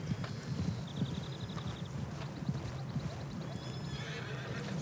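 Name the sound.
horse neighing and hooves in a video game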